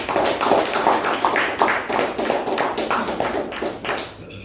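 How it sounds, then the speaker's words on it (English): Members at a Toastmasters meeting give a round of applause: a modest group claps in quick, uneven bursts that pulse steadily, then fade out near the end. "Let us give the evaluator and the speaker a huge round of applause."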